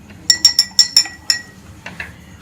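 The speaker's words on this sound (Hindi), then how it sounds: "और ये आइस क्यूब है वो हम इसके अंदर डाल देंगे।" Ice cubes clinking into a glass of mint lemon juice: six quick bright clinks in a row, then a few softer taps as they settle, close and clear with no talking.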